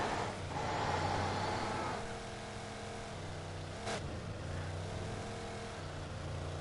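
A car engine in the video game Alan Wake Remastered hums steadily with a low rumble, swelling slightly early then settling into a constant drive tone, moderately loud with no talking.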